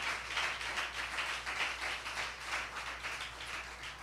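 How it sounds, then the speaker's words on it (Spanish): A Pentecostal church congregation claps together in praise, a steady, dense patter of hands that holds evenly throughout without any talk over it. "Dale un aplauso fuerte a nuestro Dios."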